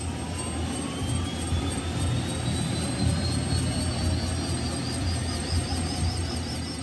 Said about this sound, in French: À bord d'un hélicoptère russe, nous quittons la capitale, direction le Nigeria.